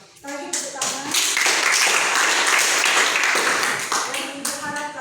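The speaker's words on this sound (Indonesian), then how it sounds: "Sekali lagi tepuk tangan." Classroom applause from students after group work: scattered claps build into a loud, fast, sustained burst, then taper, with children's voices audible at the start and end.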